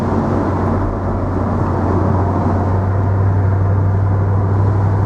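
A 2003 Mercedes SL55 AMG V8 cruises in normal drive on a summer country road, giving a steady low engine drone with road and wind rumble, loud and even throughout with no talk.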